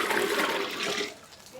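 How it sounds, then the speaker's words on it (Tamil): Thin dissolved masala mixture pours into a pan for South Indian fish curry (meen kuzhambu), a steady liquid gush for about a second that then tapers off, with no voices. "மசாலா கரைச்சி இப்போ ஊற்றுறேன் பாருங்க."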